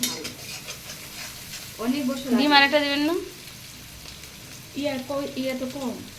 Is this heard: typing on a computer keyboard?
no